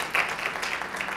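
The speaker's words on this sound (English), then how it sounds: "we can give him a round of applause for that" Brief burst of audience applause at a startup week talk, a dense wash of many hands clapping together, steady and moderately loud with no voices.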